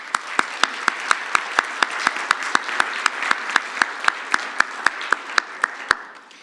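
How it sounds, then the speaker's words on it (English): Audience applause at an afternoon conference presentation session, a steady even patter of many hands clapping that fades out after about six seconds, with no talk over it. "I think everyone deserves a big, great a round of applause for your support."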